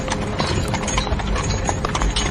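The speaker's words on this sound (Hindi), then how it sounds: "घोड़े फिर से शांत हो गए और बग्घी चल पड़ी" Horses pulling a buggy, hooves clip-clopping in a quick, steady, fairly close rhythm over rough rumbling ground noise, with no voices.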